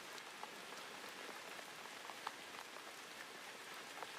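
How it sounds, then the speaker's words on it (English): Steady rain falling on a surface, a soft, even patter of countless drops with occasional slightly louder ticks, continuous and moderately faint with no voices. "Let the rhythm of the rain become the only sound."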